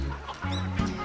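Cheongye chickens, a breed laying blue eggs, roaming freely outdoors and dust bathing, cluck in a few close, low, throaty calls, loud and clear with no talk.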